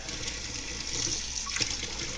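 Warm water pours into a bird food slurry being mixed to feed baby corvids, a steady, close running trickle with a brief louder splash near the end.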